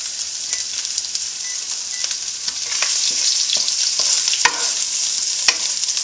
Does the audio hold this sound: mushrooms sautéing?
yes